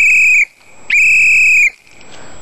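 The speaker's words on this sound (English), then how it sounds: "That one sounds more like a coach's whistle, or what I'm used to, like a police whistle." Two loud, shrill blasts from a survival kit whistle with a coach's or police whistle tone, each sharp and steady, separated by a brief gap, heard alone and close.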